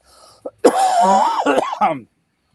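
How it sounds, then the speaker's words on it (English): A man coughs and clears his throat in a short, close burst of rough rasping sounds. "Sorry, guys, got a cough here."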